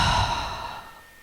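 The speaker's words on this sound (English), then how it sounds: "I want you to forcefully let that breath out" One strong, forceful exhale after a held deep breath during a guided meditation, a close, breathy rush of air that fades out over about a second.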